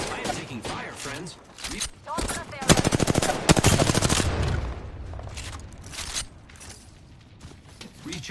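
Rapid automatic gunfire bursts in the Apex Legends video game, loud and close, with rattling fusillades and mechanical clanks between shots and a game voice speaking over it.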